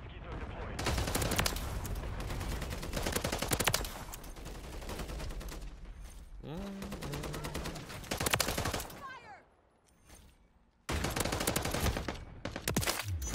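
Rapid-fire COR 45 gun in Modern Warfare 3, with long, loud, dense bursts of automatic shots broken by short gaps and a brief near-silent reload pause before firing resumes.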